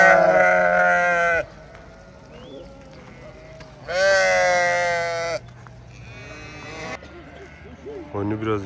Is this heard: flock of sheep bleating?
yes